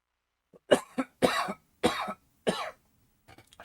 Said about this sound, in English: So I'm coughing because my nose.